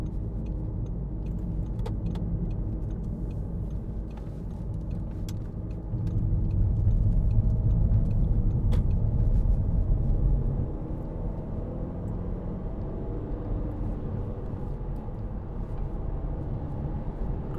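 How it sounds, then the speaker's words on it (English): A 2009 Audi A3 2.0 TDI S line diesel hatchback heard from inside while driving, a steady low engine and road rumble swelling briefly midway with faint clicks. "Great engine, lovely turn of speed."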